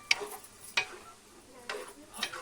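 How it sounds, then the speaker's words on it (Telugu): A spoon stirs tomato into gongura liver curry in a pan, making four brief scraping strokes spaced about half a second apart, with a faint sizzle between them. "టమాటా మొత్తం వేసేసుకొని బాగా కలుపుకోవాలి, అన్నీ మిక్స్ అయ్యేటట్టు కర్రీలో."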